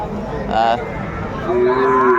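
Sahiwal cattle moo loudly nearby at the Aftabganj livestock market in Dinajpur, two drawn-out calls in quick succession.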